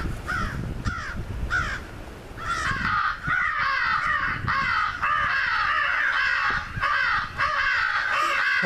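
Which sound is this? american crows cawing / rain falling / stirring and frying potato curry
american crows cawing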